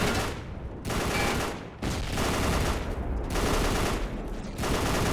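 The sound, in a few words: machine gun fire in video game History Channel Battle for the Pacific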